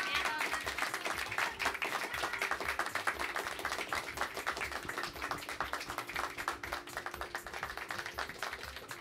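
An audience at a Tokyo Tower live broadcast applauding the band after their set, a sustained dense wash of clapping from many hands at moderate distance.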